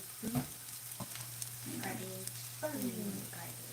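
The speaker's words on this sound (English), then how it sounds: "you gotta let that heat, let that oil heat up" Oil heating in a frying pan for vegan Salisbury steak gives a soft, steady sizzle with a few faint scrapes and clinks of stirring, quiet and close.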